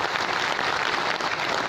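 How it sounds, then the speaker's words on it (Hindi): A seminar audience at an organics event in Jaipur applauds, a steady dense wash of clapping that holds evenly for under two seconds with no voices over it. "मैं चाहता हूं कि उनके लिए एक बार आप सब लोग जोरदार तालियां बजाएं"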